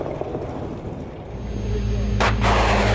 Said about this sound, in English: They start firing at the Russian APCs moving in to try and retake the area.